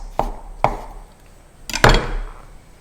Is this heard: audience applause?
no